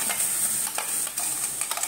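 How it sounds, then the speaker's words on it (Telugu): Tamarind mixture added to a preheated pan over lowered flame, a close, steady sizzling hiss with bursts of stirring scrapes, no voices. "పాన్ కొద్దిగా వేడెక్కిన తర్వాత ఇప్పుడు మనం ఫ్లేమ్ని తగ్గించేసుకునేసి ఇందులో చింతపండు మిశ్రమం అంతా వేసుకున్నామండి"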